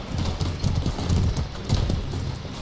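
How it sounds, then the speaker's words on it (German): Horse hooves clip-clop in a steady, close rhythm across a game battlefield in Mordhau, a medieval combat title, with the repeated beats standing out over a dense low rumble and no talk. "Doch ein Pferd. Ah, das ist unser Pferd."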